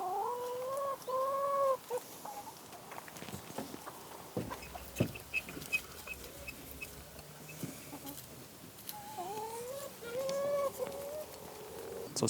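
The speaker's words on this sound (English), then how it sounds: "I always make sure the hens get some food as well." Hens cluck close by in a garden, with several drawn-out rising calls at the start and again near the end and softer scattered clucks and rustling in between.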